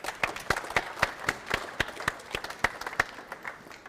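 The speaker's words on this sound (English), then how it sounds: "So can we please have an applause for Jörg?" Scattered applause from a small audience at a COP18 photo and video contest award ceremony, individual claps sounding as distinct sharp hits in an uneven rhythm, moderately close but fairly light.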